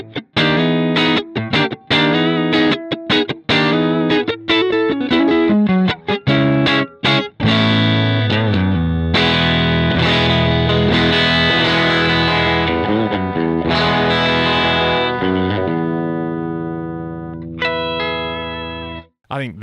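Electric guitar through an Axe-Fx III modelling a Fender Brownface amp with an M160 cab IR, distorted chords and single notes played close and loud, ending in a long sustained ring that fades out.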